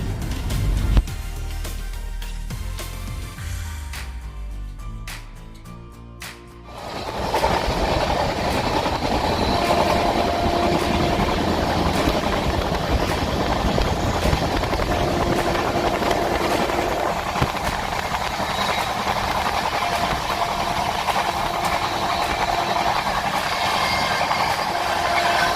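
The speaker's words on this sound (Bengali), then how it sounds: "দেখলাম 108-9 স্পিডে এগিয়ে চলেছে আমাদের ট্রেন নিজের গন্তব্যস্থলে।" Howrah–Doon Express 13009 running at speed, a steady loud rolling roar with rhythmic wheel clatter and occasional squeals, continuous throughout after a quieter, softer start.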